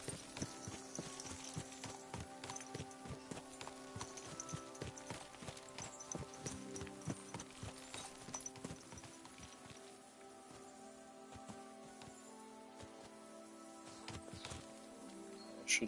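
Horse hooves clip-clop at a steady walking rhythm in the medieval game Kingdom Come: Deliverance II, with a soft rain-like patter and quiet background ambience underneath.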